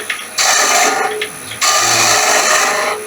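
A spindle gouge cuts a wooden whistle spinning on a lathe, producing two loud, close bursts of harsh scraping with a brief pause between them over a low machine hum.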